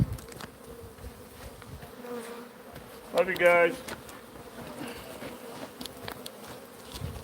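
A swarm of native bees hums steadily at an outdoor site, a dense insect buzz running throughout with one louder close pass midway, while people talk briefly over it.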